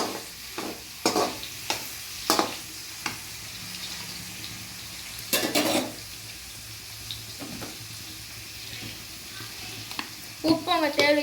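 Carrots frying in hot oil in a pan, stirred with a utensil: a steady sizzle runs throughout, broken by sharp scraping stirs and clatters, with a burst of busier stirring near the end.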